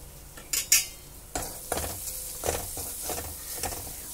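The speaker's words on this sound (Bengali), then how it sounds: "হলুদটা দিয়ে নাড়াচাড়া করে মিশিয়ে নিয়েছি" Spices and turmeric stirred in a pan, a spoon scraping and knocking against the metal in a few separate strokes over a faint sizzle, close and moderately loud, with no voices.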